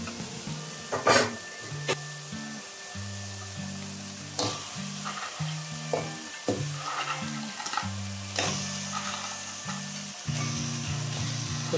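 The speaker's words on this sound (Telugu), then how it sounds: "ఇప్పుడు మనం పీతలు కూడా వేసేసుకుందాం." Crabs sizzle steadily as they fry in a pan for a crab curry, with loud, close hissing broken by scrapes and clanks of stirring against the pan.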